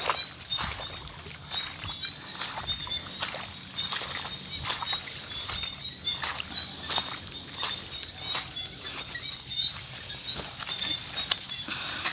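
Rain falls outdoors on a morning of eel trapping, a steady patter broken by irregular louder drops and taps, with no talking.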